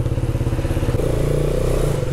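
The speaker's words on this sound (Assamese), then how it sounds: "বাইকখনৰ কুল ষ্টাৰ্টটো দি লওঁ" A motorcycle engine is started cold and runs close by with a fast, even thumping beat that shifts to a slightly fuller, rougher tone about halfway through.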